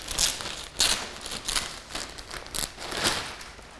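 Crinkly plastic rustling and crumpling as a liner for a 2025 BMW GS1300 side saddlebag is pulled open, with several sharp crackling bursts close to the mic and no talking.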